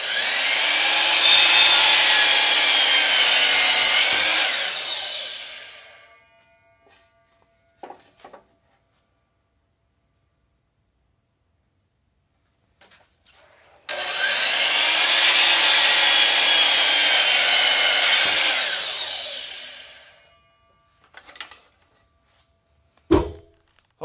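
A power saw cuts a 45-degree bevel along the edges of wooden boards cut to length, in two loud sustained passes of several seconds each, followed by brief clatters and knocks.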